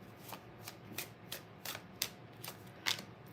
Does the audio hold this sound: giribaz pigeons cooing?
no